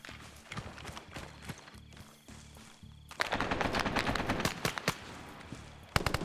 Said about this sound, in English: a mounted machine gun